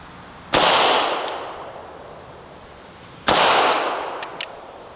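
Two shots from a Sig Legion 9mm handgun, one double action and one single action, each a sharp loud crack with a long decaying echo, about three seconds apart, outdoors at a range.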